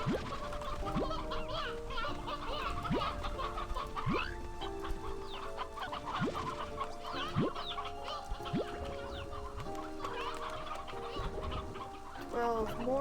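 Chickens in the video game Slime Rancher 2, repeated clucks and short calls scattered across a constant bed of game music and ambience.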